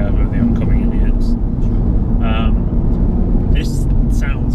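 Audi RS3 engine pulling hard at full throttle, a loud steady low roar right up close, with talk over it.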